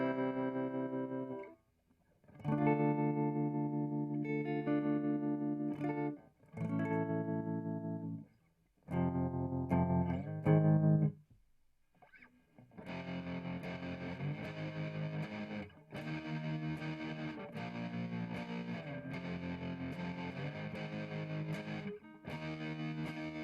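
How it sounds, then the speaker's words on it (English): Distorted electric guitar chords ring out in bursts, then sustain with a rapid pulsing wobble in volume, played alone without voices. "It's got the distortion with a tremolo,"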